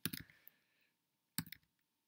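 A few quick keyboard keystrokes on a computer, one short burst of clicks, a lone tap, then another brief cluster after a pause, close and quiet.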